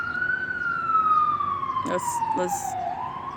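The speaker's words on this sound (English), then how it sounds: "Excuse the sirens in the background." A fire truck or police siren wails steadily in a New York City street, its pitch gliding slowly downward as it passes, with a couple of brief spoken words over it.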